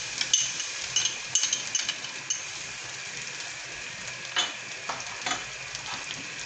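Golden onions frying in a pot as ginger-garlic paste goes in for an aloo matar curry, with a bright steady sizzle and scattered scraping stirs and light metallic clinks, loudest in the first few seconds.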